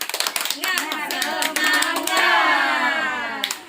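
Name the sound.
group rhythmic clapping chant 'tepuk semangat'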